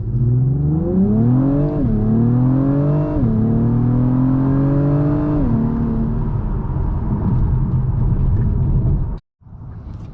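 Engine of a 2024 Acura TLX Type S with a 10-speed automatic, loud and close, revving up in rising sweeps with gear changes between them, then settling into a steady drone before a brief cut near the end.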